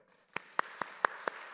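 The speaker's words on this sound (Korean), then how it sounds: "이제 박수도 치시네요." Six sharp, evenly spaced claps from a church congregation during a Bible revival meeting, a slow rhythmic clapping rather than full applause, moderately close in a quiet hall.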